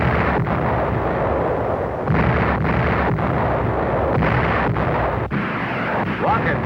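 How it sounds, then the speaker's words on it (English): Naval guns on Korean War destroyers fire in a rapid series of heavy booms and sharp reports over a dense roaring rumble, dramatic and loud, with a narrator's voice faint beneath. "Destroyers open up."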